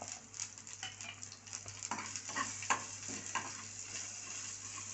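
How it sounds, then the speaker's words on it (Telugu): Spices for a drumstick leaf chutney tempering fry in hot oil, giving a soft continuous sizzle with scattered faint pops and crackles, quiet and steady throughout. "పోపు వేసుకుంటున్నాను."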